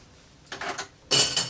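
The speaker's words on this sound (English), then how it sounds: "I'm gonna get some ice, just a few cubes" Ice cubes tumble into a cocktail glass while an absinthe-based black and white cocktail is mixed: two quick bursts of bright clinking and rattling, close by, with a short quiet gap between them.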